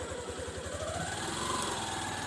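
Motorcycle engine running steadily with a pulsing low throb as the throttle is opened, rising slightly in pitch, close and continuous, during a beginner's first riding attempt.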